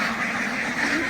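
Ducks raised for meat in Barishal quack and honk continuously as a dense flock, the calls close and overlapping with no pause.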